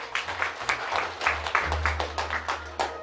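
Guests at a wedding celebration applaud, a steady run of hand claps with rhythmic peaks over a low background hum, moderately loud and mixed with faint voices.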